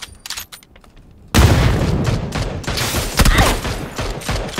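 PUBG gunfire: after a few sharp shots, a sudden loud, dense burst of rapid automatic fire with booming reports that keeps going in close, heavy volleys.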